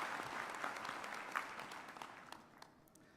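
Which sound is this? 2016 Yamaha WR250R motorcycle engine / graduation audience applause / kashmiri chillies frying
graduation audience applause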